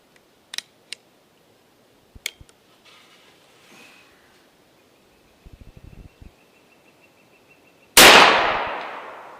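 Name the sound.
AEA Element Max .58 caliber air rifle shot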